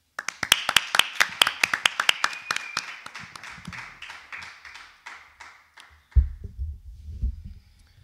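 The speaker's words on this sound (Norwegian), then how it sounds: "Applaus til henne." A small group claps at a live Friday-night show, a quick burst of sharp claps that thins out and fades over a few seconds, followed by a low, muffled rumble.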